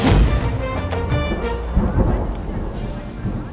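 A loud thunderstorm: heavy rain pouring steadily while thunder rumbles low underneath, close and continuous.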